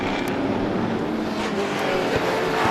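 Race cars at a Maine short-track stock car event roar past in a dense, steady engine drone, loud and close for the whole stretch, with no break in the noise.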